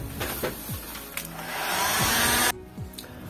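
A hair dryer blows on fresh paint on a trumeau mirror frame, a loud close whirring rush that swells steadily and then cuts off abruptly about two-thirds through, leaving faint room noise.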